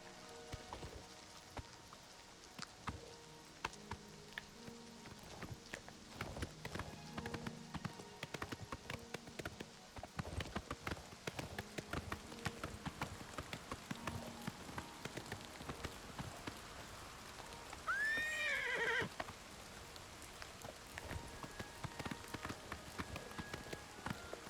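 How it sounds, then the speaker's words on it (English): Horse hooves clip-clop in the rain in the video game The Elder Scrolls IV: Oblivion Remaster, an irregular run of soft thuds over steady patter, with one short rising whinny-like cry near the end. "get my horse to spawn"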